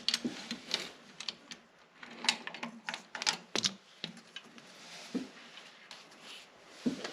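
Ratchet clicks from a 15 mm 12-point socket on a universal joint and extension, working a nut on a 6.5L diesel injection pump in a surplus Humvee; quiet, irregular ticking bursts close by, with no talk.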